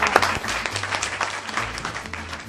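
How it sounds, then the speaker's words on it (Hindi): Sustained applause from an audience at a Holi comic poetry gathering, dense and steady clapping throughout. "एक बार जोरदार तालियां"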